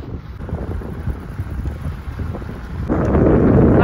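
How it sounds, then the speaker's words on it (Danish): Wind buffets the microphone during a bike ride by the water on Amager Fælled, a constant rough rumble that swells louder near the end, with no talking. "Det blæser også"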